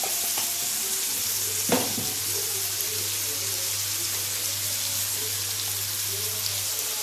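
Egyptian baladi sausage sautés in a pan with a steady hiss and sizzle, a single sharp clatter near the start and a low constant hum underneath.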